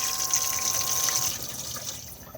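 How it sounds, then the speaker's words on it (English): Cassette toilet in an Auto-Sleeper Kemerton XL motorhome flushes with a close, steady gush of water and a pump whine that cut off partway through, leaving a fading trickle. "just press the blue button to flush"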